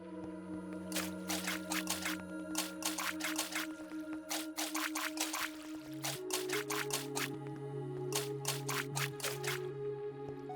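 Minecraft water blocks being placed for an automatic moss and bonemeal farm, with a rapid series of short, close splashy placement sounds in bursts over a steady droning background.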